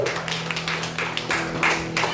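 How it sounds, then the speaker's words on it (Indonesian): A church congregation at WTC Cilegon claps along, with quick, scattered hand claps over a sustained low musical hum. "Kasih tepuk tangan dulu buat WTC Cilegon"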